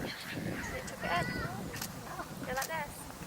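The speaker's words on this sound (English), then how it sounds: "I want her to feed the ducks." Ducks at a stream, being fed malt loaf, give a few honking calls close by, mixed in with people talking and outdoor background noise.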